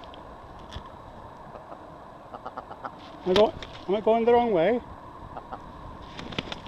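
An aggressive grouse guarding a new nest gives a short burst of loud, close clucking calls midway through, with a voice speaking briefly over quiet outdoor background.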